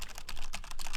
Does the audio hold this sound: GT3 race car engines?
no